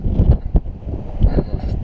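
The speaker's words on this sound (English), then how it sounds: "A little windy." Wind gusting against the microphone outdoors in winter, a low rumbling buffet with a few stronger bursts, steady throughout and close.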